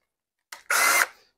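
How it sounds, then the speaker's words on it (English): A power drill bores a threaded hole through PVC pipe for a DIY hydroponic cloner: a short initial buzz, then a loud, steady grinding whir of about a third of a second that tapers off quickly. "I just gotta try not to talk over the drill while it's going so it won't drown my voice out"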